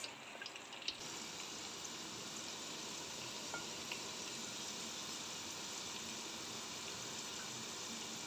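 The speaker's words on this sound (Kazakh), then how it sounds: "осылай қызарғанша қуырып аламыз" Potatoes frying in oil in a kazan for kazan kebab, a faint, even, continuous sizzle with a small knock near the start.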